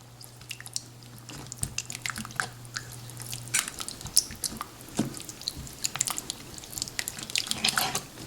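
Yogurt is stirred into a Bengali fish curry in a pan, giving soft wet squelches and scattered spoon clicks, close and fairly quiet, with a faint low hum in the background and no talking.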